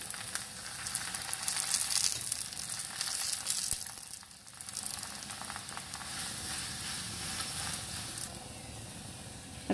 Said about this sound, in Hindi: अब दूसरी साइड से भी इसको पकाएंगे।